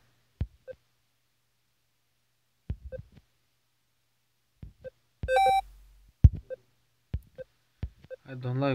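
Short electronic beeps from the Chrome dinosaur video game marking each 100 points, a sparse series of brief clicks and tones with gaps of silence and a spoken voice near the end.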